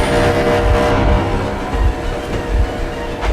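Vehicle engine running in the video game Metro Exodus, a loud continuous rumbling drone with low throbbing surges and mechanical rattle, close and steady with no talk.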